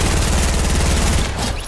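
Rapid automatic gunfire in the video game Fortnite, a loud continuous burst of shots that fills almost two seconds before trailing off slightly, with no talk over it.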